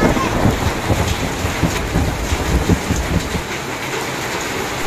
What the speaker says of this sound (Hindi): ये देखो गाइस खतरनाक बारिश हो रही है